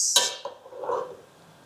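Chicken being stirred in a metal pot while cooking Ambur biryani: a sharp clatter of utensil against the pot, followed by softer scraping and shuffling, close and alone.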